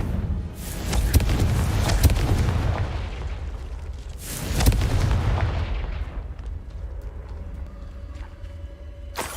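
In Hogwarts Legacy, the Confringo fire spell explodes with a heavy boom followed by a rumbling tail. A second loud blast comes mid-clip, then the noise fades to quieter crackles and faint game ambience.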